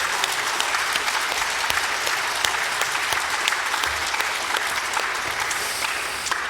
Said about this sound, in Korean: 이 교회가 정말 떠나갈 정도로 우리 한번 힘차게 응원의 박수 한번 하도록